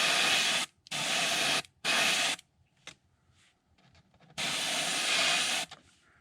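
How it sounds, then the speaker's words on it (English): Three sharp bursts of aerosol spray paint through a texture onto a fishing crankbait hiss in quick succession, a pause with faint rustling, then one longer spray blast, close and loud. "we're just going to put some texture, spray through this texture."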